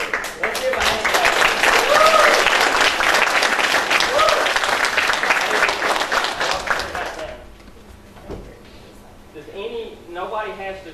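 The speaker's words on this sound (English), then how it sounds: "Let's give a hand clap." Church congregation applauding during a Baptist Sunday morning service, a dense sustained wash of hand clapping for about seven seconds that then stops abruptly, followed by quieter room noise and brief voices.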